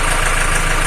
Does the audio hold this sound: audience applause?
no